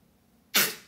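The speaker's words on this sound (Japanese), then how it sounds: "くしゃみした" A single short sneeze bursts out in a quiet room, sharp and close, then trails off quickly.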